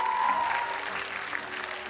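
Soft, fairly distant applause from an audience at a school award ceremony, a brief wash of many hands clapping at low volume.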